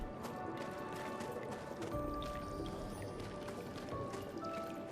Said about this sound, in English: That sound of the water like dripping down the cave like that.